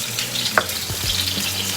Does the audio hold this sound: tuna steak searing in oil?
yes